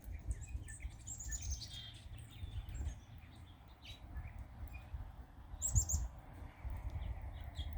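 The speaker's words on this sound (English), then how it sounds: "I got lots of birdies over here." Small birds chirp and tweet at a snowy bird feeder, scattered high calls near and far over low wind-like rumble, with a brief louder flurry of chirps late on.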